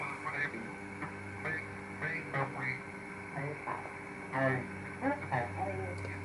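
A steady, buzzy square-wave tone hums through a small radio speaker, with a person talking over it.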